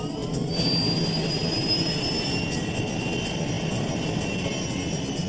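The turbofan engines of a British-built BAE 146 commuter jet roar steadily, a dense continuous rumble with a faint rising whine on top, loud and unbroken throughout.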